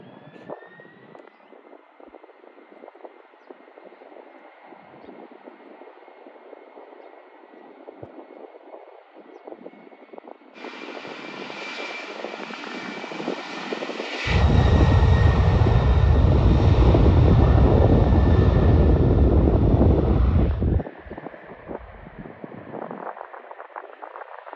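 A C-5M Galaxy military jet transport taking off too slowly, its engines building from a distant whine to a loud, sustained roar that holds for several seconds before fading back.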